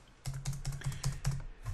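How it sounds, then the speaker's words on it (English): Someone types on a computer keyboard, a quick run of about eight crisp, evenly spaced keystrokes heard up close with nothing else over them. "when I open this file and I start typing in here, you can see I'm now typing in Bradley Hand ITC"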